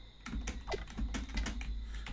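Computer keyboard keys tapped while playing the video game Mini Thief, a quick run of close, crisp clicks in irregular bursts with no talking.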